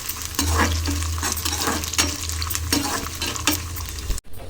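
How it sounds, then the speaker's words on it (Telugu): Peanuts and chana dal sizzle and crackle steadily in a hot pan, with several louder stirring scrapes breaking through the frying noise, close up and with no talk. "పల్లీలు మంచిగా ఫ్రై అయిపోయాయి"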